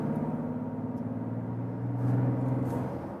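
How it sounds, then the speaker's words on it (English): Mazda CX-60 six-cylinder SUV accelerating from inside the cabin: a steady, muffled engine drone that rises in pitch, then a gear change shifts the tone, without talk. "Let me show you here some acceleration and just feel how it shifts."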